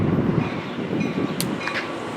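A BNSF train rolls into Naperville station near Chicago, a close, steady rumble of railcars with a brief metallic squeal of wheels near the end.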